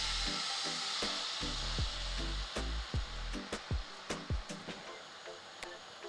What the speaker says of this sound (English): Once you have your pan extremely hot, then I just usually just dump my whole marinade and everything in.